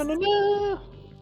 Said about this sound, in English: If you hear my cat, I am so sorry